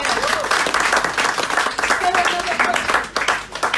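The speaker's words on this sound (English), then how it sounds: "Round of applause, please." An audience claps at a London political gathering after a presidential election, a crowd's steady applause with brief voices cutting through now and then.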